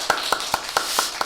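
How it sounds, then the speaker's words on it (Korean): A church congregation applauds during a Sunday service, a dense steady wash of clapping with a few sharper nearby claps standing out. "우리 박수로 축복하시고 힘내시라고"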